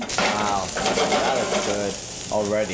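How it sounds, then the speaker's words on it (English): Baby agaric mushrooms sizzle steadily in olive oil in a pan, a loud continuous frying crackle while people talk over it. "So the mushrooms are now frying."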